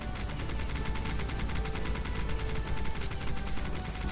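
Sustained rapid automatic gunfire from the video game Geist, a dense unbroken rattle of shots that stays loud and close throughout, with a faint mechanical hum underneath.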